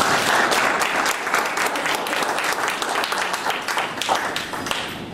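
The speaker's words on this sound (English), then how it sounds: "Will everyone please join me in a round of applause for all of our graduates." Loud, sustained applause from a crowd at a Marine Corps food service basic course graduation, a thick continuous roar of many hands clapping close by, holding steady for the full stretch.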